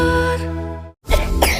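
Coughing in an OBH Kombi herbal cough medicine advertisement, a harsh chesty cough burst after a tonal music bed cuts out, loud and close, with a second hacking cough following.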